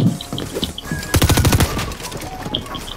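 Shotgun fire in the video game Fortnite, a quick rapid burst of several loud shots lasting about half a second, set over a busy background of game sounds.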